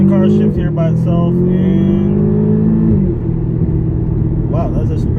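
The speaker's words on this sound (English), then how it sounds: "So I'm letting the car shift here by itself" A 2012 Audi TTS engine pulls hard with rising pitch, then drops sharply as the car shifts gear automatically around three seconds and keeps rumbling up close.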